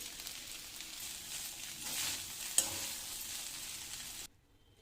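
Bottle gourd rice with peanuts being stirred in a hot pan gives a close, continuous sizzle with scraping strokes and one sharper knock, then cuts to near silence at the end.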